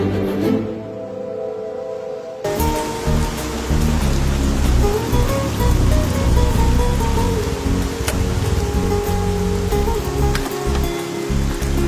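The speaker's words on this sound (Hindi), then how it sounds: "ये बारिश है कि रुकती ही नहीं है" Heavy, steady rain pours down, a dense hiss that starts abruptly and continues without pause, mixed with background music.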